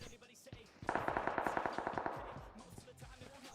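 Rapid bursts of automatic gunfire in the game PUBG Mobile, a steady rattling volley lasting about a second and a half, then scattered shots trailing off against background noise.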